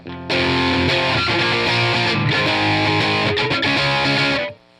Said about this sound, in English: Walls of Distortion, not an overly thick sound, but a cool sound